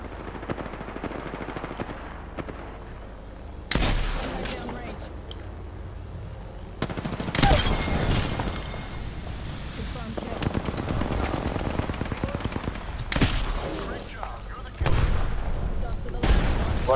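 Apex Legends gunfire: bursts of automatic weapon fire crack in loud, repeated volleys with booming hits, while voices talk over the fighting.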